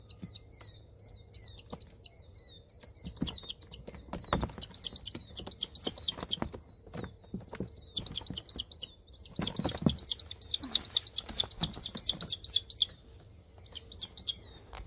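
A pet bird chirps in rapid bursts of high, thin tweets, repeated in clusters with short pauses, fairly faint against a quiet indoor background.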